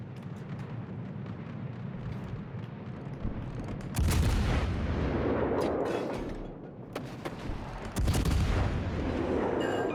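Warship guns fire salvos in World of Warships Legends, two heavy booming volleys about four seconds apart, each a loud blast that rolls on over a steady engine and sea rumble.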